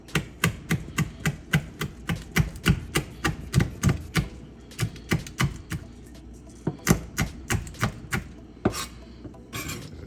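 Knife roughly chopping chili pepper on a board, a steady rhythm of sharp, close thuds, about two per second, pausing briefly midway before resuming, with no talking.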